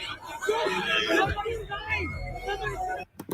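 A packed crowd at the Astroworld concert yells and screams in a chaotic babble of many voices, shouts rising and falling over a dull low thump, fairly distant and muffled.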